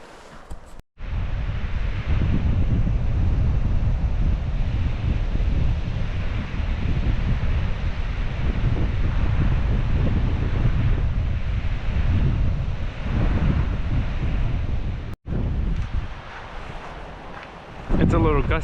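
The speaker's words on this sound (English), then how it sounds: "It's a little gusty with the wind coming off the lake" Gusty wind coming off a lake at an autumn campsite buffets the microphone in a loud, continuous roar that swells and eases for most of the stretch, with only a brief break near the end.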